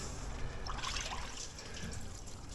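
Fresh antifreeze dripping and trickling from an aluminum engine block in a Land Rover Discovery, a faint, steady liquid patter against a low background hiss.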